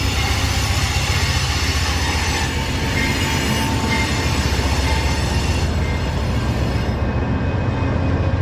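Amtrak's Capitol Limited rolls into Cumberland station loud and close, wheels rumbling steadily with metallic squeals and a faint clickety-clack under the roar.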